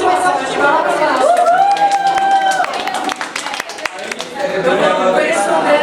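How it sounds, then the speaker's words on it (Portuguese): An auditorium crowd at a convention talk applauds and cheers as a voice actor is introduced, loud sustained clapping with whoops, while a voice carries through a microphone over part of it. "André Colosso, uma salva de palmas"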